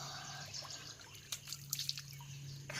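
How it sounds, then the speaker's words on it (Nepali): Water trickling and dripping while someone washes their hands, faint and close, with a few brief splashes over a steady low hum. "हात धुन लागेको यो चाहिँ कस्तो सफा पानी रहेछ"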